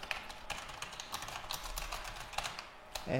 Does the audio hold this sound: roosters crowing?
no